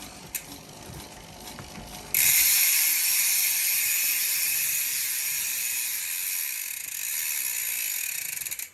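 Rapid, sharp freewheel clicking from an E*Thirteen LG1R rear hub on a 2019 Evil Offering mountain bike, a steady buzzing ratchet that starts abruptly and runs loud and close, with a few scattered clicks before it.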